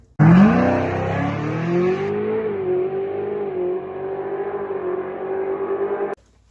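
A race car making a drag racing pass, launching hard and screaming up through the revs in one loud, sustained run of about six seconds before cutting off abruptly.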